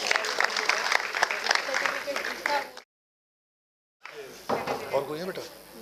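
An audience claps for a flute performer at a stage event, with dense, lively applause, then a sudden stretch of silence before the clapping resumes.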